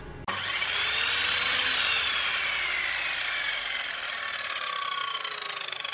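A power saw bites into the trunk of a palm tree, starting abruptly and holding a loud, sustained whining buzz with shifting pitch as the blade cuts through the wood, close and alone.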